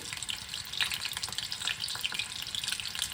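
Prawns fry in a wok over a gas stove, giving a quiet, continuous crackle with scattered spitting pops, fairly close and with no talking.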